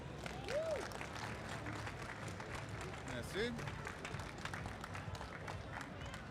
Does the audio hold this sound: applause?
yes